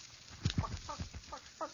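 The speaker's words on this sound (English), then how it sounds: "That's a chicken." A chicken sound effect in an old-time crime radio drama: a quick run of short, close clucks in an uneven rhythm, heard on its own without talk.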